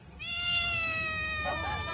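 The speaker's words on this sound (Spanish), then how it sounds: "El gato de Fabio." A cat meows in one long, drawn-out call that ends in a brief upturned squeak, close by and clear over faint room noise, with no talking.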